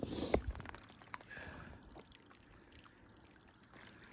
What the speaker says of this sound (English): River's running. Rain.